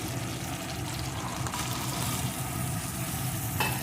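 Peas and tomato for a vegetarian cabbage curry sizzle softly in a pan while being stirred, a faint, steady frying hiss with light scraping and no voices.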